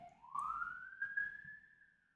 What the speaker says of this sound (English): Hold on, there's a siren going by.